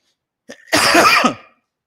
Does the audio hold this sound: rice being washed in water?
no